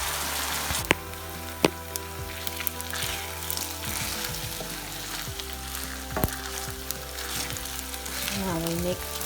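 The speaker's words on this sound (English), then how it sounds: "Now mix rice and sauces together." Thai fried rice sizzling in a hot pan while being stirred together with sauces, a steady frying hiss broken by sharp scrapes and clinks of the utensil against the pan.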